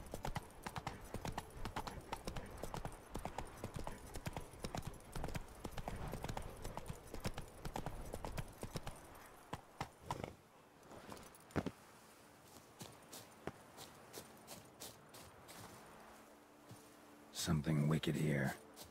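Horse hooves clip-clop at a steady walking rhythm in The Witcher 3, close and distinct, thinning to scattered steps midway, with game dialogue spoken over parts of it.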